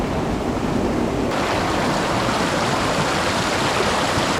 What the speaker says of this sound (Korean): 이렇게 폭포도 조금 있고